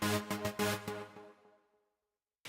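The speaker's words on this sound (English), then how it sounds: "It's just like these big saw chords that are basically kind of modulated with this LFO right here that's got kind of a trance" Big sawtooth synth chords chopped by an LFO trance gate into a fast rhythmic stutter, loud and alone, ringing out into a decaying tail before a brief new hit at the end.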